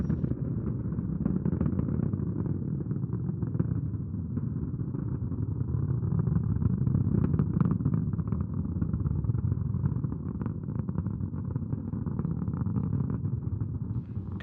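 Six first-stage engines of a Proton rocket roar steadily during launch of the Nauka module, a continuous low rumbling drone heard from a distance with no breaks.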